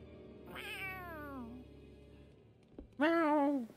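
A cat in the Tales of Arise video game meows twice, a long drawn-out call followed after a pause by a shorter, louder one, heard close and clear over a quiet game background.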